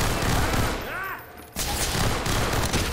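Dense, loud automatic gunfire from the shooter game Entropy: Zero 2 rattles on, with a brief lull in the middle before the firing resumes.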